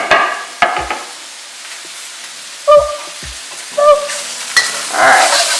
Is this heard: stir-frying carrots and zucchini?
yes